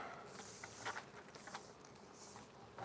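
A swarm of bees clustered high in a tree buzzes as a steady, faint insect drone, with softer rustling and brief patters mixed in throughout.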